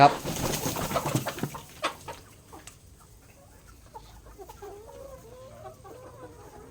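Chickens cluck and chatter nearby on a durian farm, busiest at the start, then quieter scattered clucks and soft calls continue over a low background.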